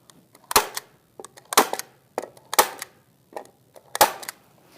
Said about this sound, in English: And go ahead and staple it in.